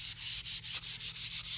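Hand sanding of a wooden paddle during maintenance, heard as steady, close, raspy back-and-forth strokes in a quick regular rhythm, about eight passes with short gaps between them.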